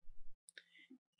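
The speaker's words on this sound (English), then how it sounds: "Just click there." A single sharp computer mouse click lands at the start, close and fairly quiet, during work in a terrain-modelling drawing program, with a faint voice right after.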